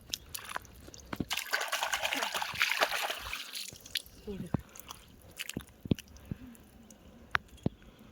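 Small crabs are rinsed in river water in the Sundarbans, with a burst of splashing and sloshing early on followed by scattered wet knocks and drips, while people talk nearby.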